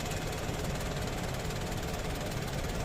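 The engine of a Toyota Hiace Grand Cabin TRH224 van runs at a steady idle, a continuous, even rumble with constant loudness and no talking.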